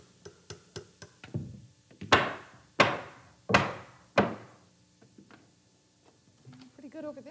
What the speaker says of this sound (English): The circular saw comes up a bit short, but one hammer blow breaks the waste free. Then we chisel inside our cut